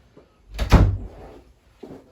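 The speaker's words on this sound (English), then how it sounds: "Let me just shut this door." A door pushed shut indoors on a windy day, a single solid thud with a brief rattle, fairly close, followed by quiet room tone and a faint later knock.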